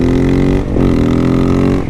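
A KTM supermoto motorcycle, either the 500 EXC-F or the 690 SMC-R, being ridden with its engine droning loud and close, held at a steady pitch with a brief dip in the revs midway.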